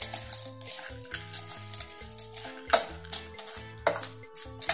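Snack ingredients being stirred and mixed in a bowl for instant panki, a spoon scraping and clinking in uneven strokes over soft background music, close and fairly quiet.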